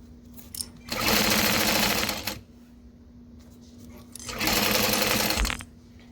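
A sewing machine stitches a backpack strap in two loud, close bursts of rapid whirring, each lasting over a second, separated by a quiet pause with a faint steady hum.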